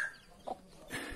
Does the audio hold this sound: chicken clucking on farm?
yes